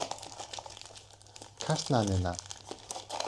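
Plastic and paper wrapping crinkle and tear as a mystery box package is opened up close, a steady rustle that swells louder midway while a voice talks over it.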